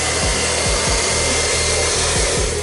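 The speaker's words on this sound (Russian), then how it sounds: "Смотрите, включаем фен." A hair dryer blows loudly and close, a steady whooshing hum with faint repeated scraping beneath it.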